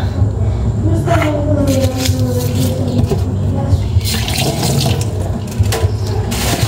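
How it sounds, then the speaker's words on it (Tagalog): Pork is rinsed under a running kitchen tap, a loud, close, continuous stream of splashing water broken by irregular sloshes as the meat is turned and handled. "Hugasan ko naman ako pork para mag-start natin."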